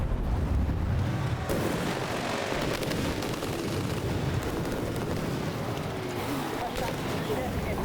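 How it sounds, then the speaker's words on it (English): Artillery shells bursting around a tank in a tank battle video game, giving a continuous rumbling barrage of loud explosions and crackling blasts with a sharp burst midway, close and dense throughout. "Someone calls artillery on me at this point"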